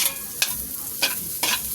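Garlic, ginger and onion sauté in a little oil with a steady soft sizzle, punctuated by three quick scraping stirs of a utensil in the pan, close and without talk.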